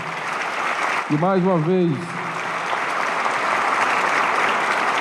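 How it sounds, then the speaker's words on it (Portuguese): Audience at a formal ceremonial session of prosecutors claps in a dense, sustained round of applause, briefly dipping as someone speaks a few words before the clapping swells back and continues steadily. "eu queria aqui pedir uma salva de palmas para o Plácido"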